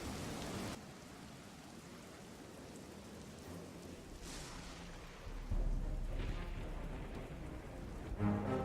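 Dark and stormy ambience plays at a low level: steady rain pattering on surfaces with distant rolls of thunder swelling and fading, no voices.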